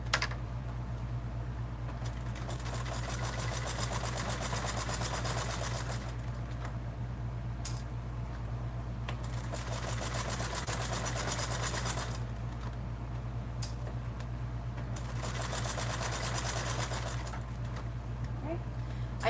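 Sewing machine stitching a seam on a Swoon Maisie bag, steady mechanical whirring in three long runs separated by pauses, with a constant low hum underneath and a person talking over it.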